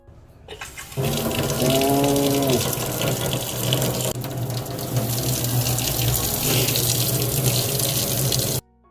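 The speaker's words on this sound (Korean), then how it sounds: "다시 잠갔던 물 밸브를 열어주시면 끝납니다." Water runs steadily from a kitchen sink faucet after the supply valve is reopened. The stream starts abruptly and gushes loudly for about seven and a half seconds before stopping.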